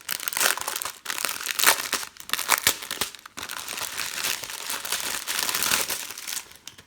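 Plastic packets of diamond painting drills being torn open and handled, giving continuous close crinkling and crumpling with short tearing bursts, alone with no talk.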